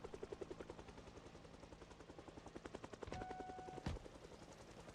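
Helicopter in the Project Zomboid video game, a rapid rotor chop that pulses steadily throughout, joined near the end by a brief louder burst and a thin tone.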